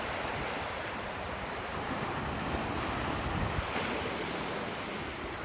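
Ocean surf on the beach at Savona, Italy, rolls in as a steady, broad wash of waves, mixed with wind rumble against the microphone, with no voices heard.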